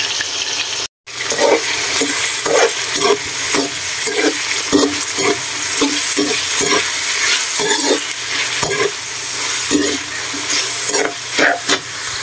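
Etag, cured pork, sautéing in a pan while being stirred, a loud continuous sizzle broken by repeated scraping and clattering stir strokes, with a brief dropout near the start and no talking.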